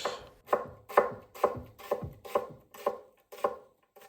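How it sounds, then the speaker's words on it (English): A knife roughly chopping half an onion, giving about eight evenly spaced, crisp chops heard up close with no talking. "And I want to chop it roughly"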